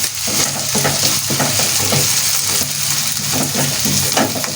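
A spoon scrapes and stirs a sizzling capsicum stuffing of fresh coriander and green chilies in a hot pan, giving loud, close, continuous frying with rhythmic scraping strokes and no talking.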